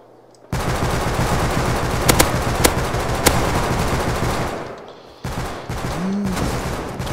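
LR300 assault rifle fire in the survival game Rust, a loud continuous automatic burst with a few sharper cracks, a short pause, then more sustained firing.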